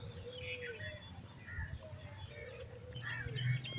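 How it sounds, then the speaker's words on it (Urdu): Birds chirp and coo around a village at sunrise after the first winter rain, with pigeon or dove calls among scattered tweets over a steady low rumble of outdoor background noise. "پرندوں کی چہچہار آپ دیکھیں اور آپ اس سے بھی لطف اندوز ہو سکتے ہیں"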